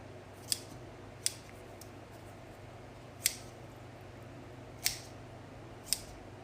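Sharp scissors snipping through raw chicken wings to trim off excess skin, five crisp isolated cuts spaced irregularly over a quiet room hum, with no talk.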